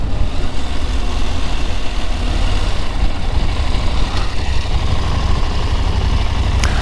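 KTM 790/890 Adventure parallel-twin motorcycle engine idling, a continuous loud low rumble with steady mechanical texture, close and uninterrupted, without talk.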